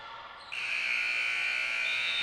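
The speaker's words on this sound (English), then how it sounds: "And they get that shot off before the buzzer." A loud, sustained electronic buzzer sounds at the end of a quarter in a women's university basketball game, sharply starting partway through and holding steady over faint arena noise.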